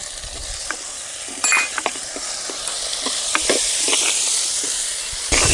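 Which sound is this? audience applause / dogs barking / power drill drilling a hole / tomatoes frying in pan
tomatoes frying in pan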